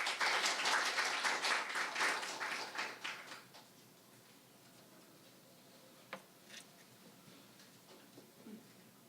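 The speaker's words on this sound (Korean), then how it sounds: "큰 박수로 환영해 주십시오." Audience applause at a forum on the Asian water industry, a burst of clapping that fades away after a few seconds, followed by near quiet with a couple of faint taps.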